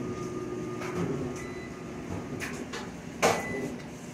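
A washing machine runs in an American laundromat, giving a steady low mechanical hum with a few scattered clicks and one sharper knock near the end. No one talks.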